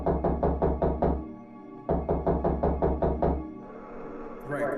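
Two quick bursts of firm knocking on a door, about seven knocks each separated by a short pause, close and loud, followed by a quieter room tone.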